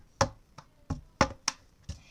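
Six sharp hand claps and taps over a plastic cup in a cup-rhythm game, quiet and close, spaced in an uneven rhythmic pattern with no talking.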